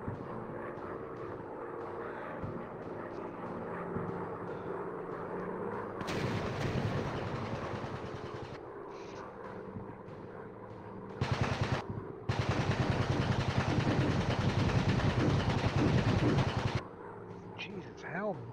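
Heavy gunfire and explosive bursts from a VR World War II-style air combat game on Quest 2, loud dense barrages in long stretches with brief lulls, under occasional speech.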